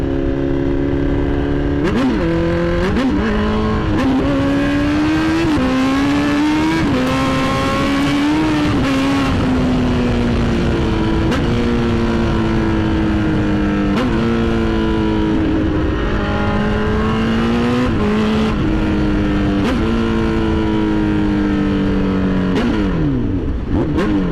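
A Honda CBR 1000RR motorcycle with a broken-off exhaust revs hard again and again, its loud raw engine note rising and falling in repeated throttle blips close by, with no talking.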